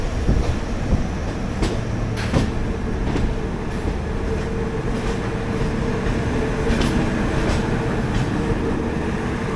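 Garib Rath Express train rolling into Shoranur Junction past a cabin, with a steady loud rumble of wagons and rail, occasional sharp clatter of wheels over joints throughout.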